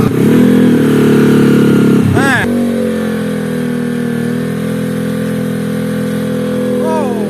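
Old Honda Sonic motorcycle engine running with a persistent gear whine before repair, close and steady after a short rev, with someone speaking over the idle.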